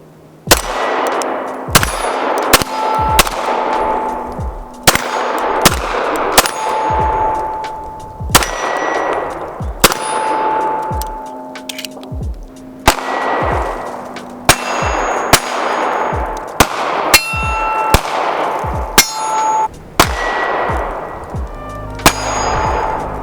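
Springfield Range Officer Elite 1911 pistol fired at steel targets on an outdoor range, about a dozen sharp reports each followed by a ringing metallic clang, spaced evenly and loud, with no talking.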